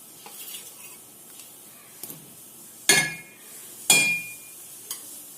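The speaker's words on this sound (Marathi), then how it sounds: "आता आपल्या रश्श्याला उकळी आली, आपण त्याची फ्राय केलेली कारली सोडायची" Fried bitter gourd pieces stirred into simmering gravy for karlyachi bhaji, two sharp spoon knocks against the pan standing out over soft bubbling and scraping, close and otherwise quiet.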